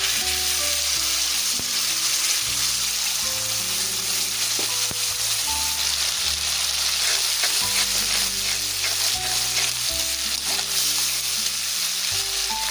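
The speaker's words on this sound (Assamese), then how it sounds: "এতিয়া এইখিনি ৰঙা হালধি ভাজি ল'ম।" Steady loud sizzling of a ground spice paste for matar paneer frying in a hot pan, continuous and close, with faint tonal music underneath.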